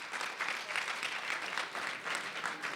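An audience at a youth session claps in a sustained, moderately loud round of applause with no one speaking over it.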